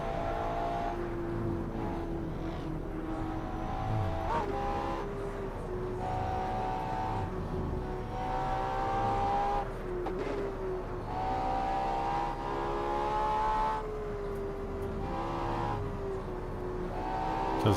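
A car engine hums steadily while driving on a two-lane highway in Assetto Corsa, its pitch climbing and settling through gear changes, with faint road noise beneath and no voices.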